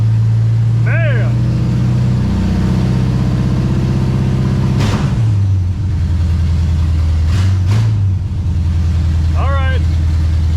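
A 1966 Pontiac 2+2 convertible with a 421 engine runs after starting, a steady low rumbling idle with a brief rev, close and loud, while a few short chirps and knocks sound over it.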